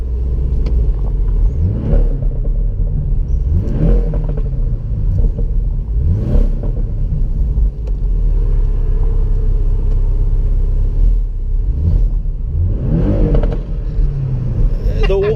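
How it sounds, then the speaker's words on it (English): Engine of a 2017 Porsche Boxster 718 S driving at lower speed gives a steady close rumble with repeated rising and falling swells every couple of seconds as someone talks over it. "You're gonna feel the dynamics of the car and the sounds and the noises and the engine at lower speeds"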